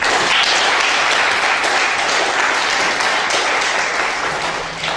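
Loud, sustained applause from a large audience, a dense wash of clapping that carries on steadily and eases slightly at the end.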